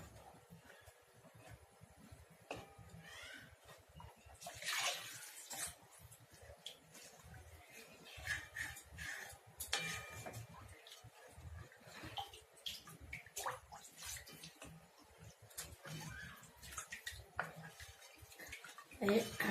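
Water poured into a cooking pan while making dal, soft splashing and trickling in uneven bursts with light clinks of utensils, faint and close, with quiet background noise.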